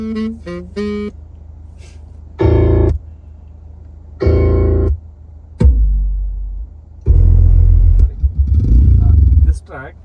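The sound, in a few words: four-stroke two-wheeler audio test track played on car stereo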